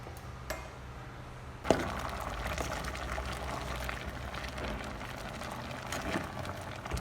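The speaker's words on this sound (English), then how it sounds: "I'm just going to boil it for 20 minutes" Homemade dog food boiling in a pot, a faint continuous bubbling simmer after a small clink at the start, steady and low throughout with no talking.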